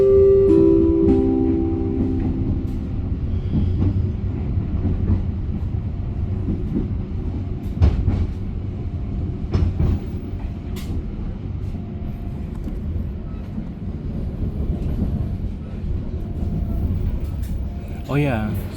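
A business class passenger train in Java rolls along the rails with a constant low rumble, while an onboard announcement plays over it near the start and light cabin noises come and go.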